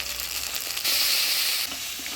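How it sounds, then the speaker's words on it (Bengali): Ground spice paste of cumin, ginger and dried chili with chopped tomato and turmeric frying in hot oil, giving a soft sizzle that swells briefly louder midway while being stirred, no voices. "মশলা বাটা দিয়ে ফোড়ন তেলে নাড়াচাড়া করে নিলাম।"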